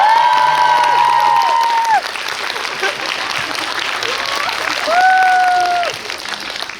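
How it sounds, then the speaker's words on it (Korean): An audience at a Korean film event bursts into loud applause and cheering, clapping and shouts filling the room steadily before easing off. "아무 이유 없이 큰 박수와 함성 보내드릴까요?"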